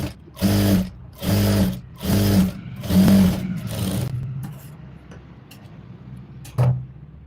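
A sewing machine stitches the folded hem of a simple blouse in four loud, evenly spaced running bursts, then fades to a quieter hum, with one more brief burst near the end.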